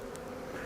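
Steady, close insect buzzing from honey bees at a balcony beehive, a continuous droning hum that holds for the whole moment with no pauses.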